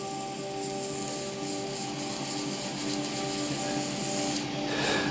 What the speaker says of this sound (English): we'll hit this with a little bit of sandpaper now